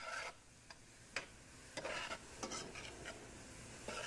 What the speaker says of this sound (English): Now we saute that just a little bit there, get it going.